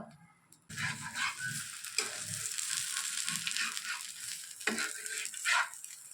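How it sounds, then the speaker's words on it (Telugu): A spicy dosa made without rice flour sizzles in oil on a hot pan. After a brief quiet start, a steady, fairly soft frying hiss sets in, with scraping stir sounds and a few sharper bursts. "నూనె వేసుకొని దోశ బాగా కాలిన తర్వాత"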